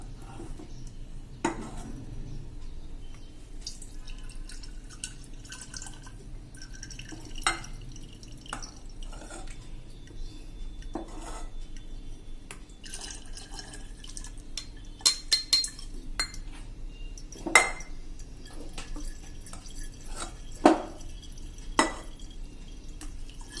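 Ghee spooned through a strainer into a jar: scattered clinks of a metal spoon against the strainer and container, with soft drips between them, sparse and fairly quiet, no talk.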